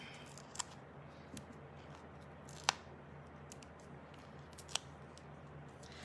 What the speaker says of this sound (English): I use my the mini trimmer, just cut it until I'm happy with it,